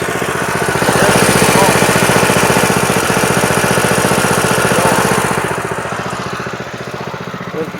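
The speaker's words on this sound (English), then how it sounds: "Let the carburetor run out," Small engine running on the last of the fuel in its carburetor, a loud rapid chugging putter that holds steady and then fades and weakens toward the end.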